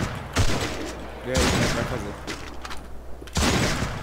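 Gunshots in a shooter video game, bursts of rapid fire in three loud clusters with gaps between, under someone talking.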